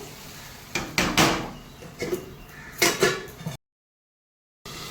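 Several clattering knocks of a metal lid being set on a cooking pot while making a spicy snail curry, clustered over a few seconds, close and moderately loud, then a short silence.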